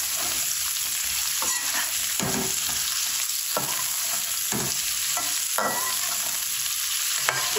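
Egg and cauliflower frying in a pan, with a loud continuous sizzle and repeated scraping strokes of a spoon stirring the mixture, close up and without talk.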